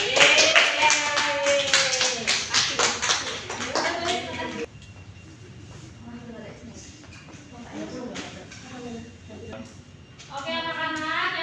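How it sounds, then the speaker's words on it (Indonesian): Children in a fifth-grade primary classroom clap in a quick, rhythmic burst of sharp hand claps while a teacher's voice talks over them, then the room quiets into soft voices before talk resumes. "beri tepuk tangan untuk kelompok ini"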